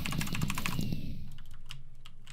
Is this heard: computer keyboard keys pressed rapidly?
yes